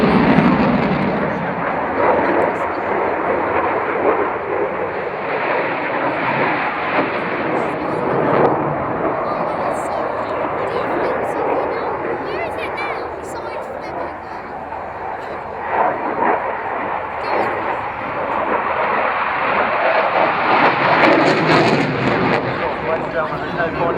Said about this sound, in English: there's no point in us trying to talk over the power of the Typhoon